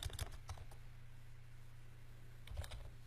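Light keystrokes on a computer keyboard come in two short bursts of clicks, at the start and near the end, faint and close against a quiet room hum.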